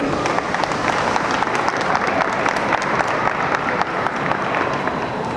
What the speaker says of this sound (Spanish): Un aplauso para Melissa.